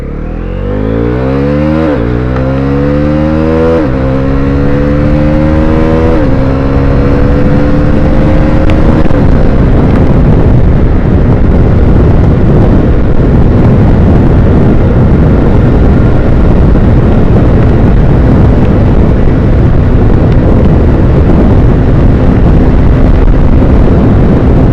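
A Bajaj NS400Z motorcycle with a 373cc liquid-cooled engine, close and loud while riding, revving up through several quick gear shifts and then holding a steady, roaring drone with heavy wind rush.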